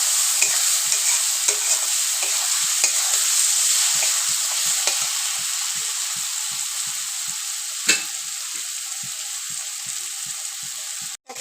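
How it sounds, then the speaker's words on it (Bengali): Spiced dry fish chutney paste with chili powder is stir-fried in a pan, a steady close sizzle running throughout while a spatula scrapes and taps the pan at a regular beat. "এটাকে ভালো করে কষাতে হবে।"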